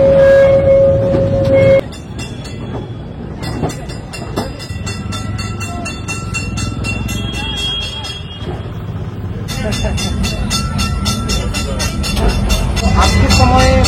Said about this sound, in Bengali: তো ট্রাম ছেড়ে দিল ধর্মতলা থেকে, অর্থাৎ প্ল্যানেট থেকে ছেড়ে দিল শ্যামবাজারের উদ্দেশ্যে।